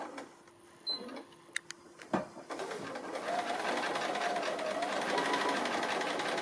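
A domestic sewing machine free-motion stitching a cotton-thread tree applique, starting with a few clicks and taps, then settling into a steady, fairly quiet continuous whirr of rapid needle strokes.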